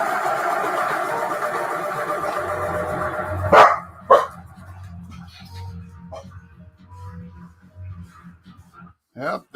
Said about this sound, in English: Yep, that's the goddamn dogs